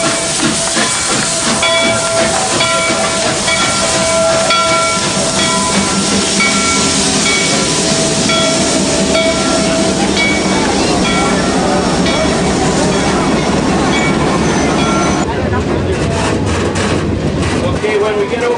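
Canadian Pacific steam locomotive 2860 hauling an excursion train, a loud continuous hiss of steam and rolling rail noise with sustained whistle-like tones, heard close and steady throughout, with some voices mixed in.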